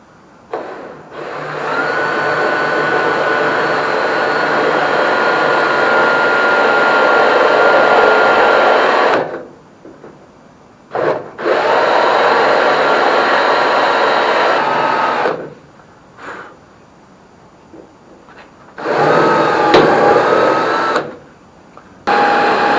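A spot weld drill grinds through a Holden Torana UC's car body metal in three bursts, a long steady run, a second long run, then a shorter one, with brief pauses between.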